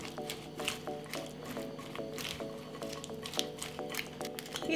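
Salad with meat, mayonnaise, salt and pepper being stirred together in a bowl, giving soft, wet squelching sounds that repeat steadily over a faint tonal background.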